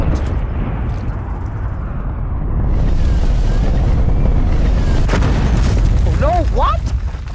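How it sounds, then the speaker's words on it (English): A cruise missile explosion in a competitive video game, a heavy booming blast with a rumbling low roar that builds and lingers, beneath players' voices over headset chatter. "Cruise missile inbound."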